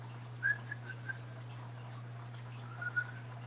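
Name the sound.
person whistling to call cats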